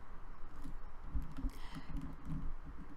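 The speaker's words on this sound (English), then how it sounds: "Now you can also do this with your keyboard." Keys on a computer keyboard are tapped in a quick, uneven burst of close, dull clicks, heard alone without speech.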